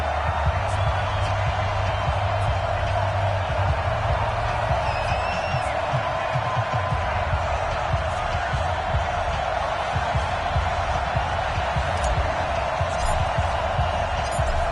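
Steady stadium crowd roar at an NFL game between the Arizona Cardinals and New York Giants in an EA Sports football video game, a constant wash of cheering with occasional whistles and whoops, no clear talk.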